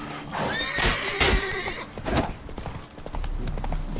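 Roach the horse in The Witcher 3 gallops with rapid clip-clop hoofbeats and whinnies loudly near the start, then keeps a steady galloping rhythm underneath.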